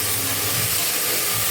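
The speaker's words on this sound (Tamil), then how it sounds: "வெங்காயம் நல்லா வதங்கணும். நல்லா பொன்னிறமாக வர அளவுக்கு நல்லா வதக்கணும்." Onions sauté in a pan for chicken biryani with a loud, even, steam-like hiss that runs continuously and close, with no speech over it.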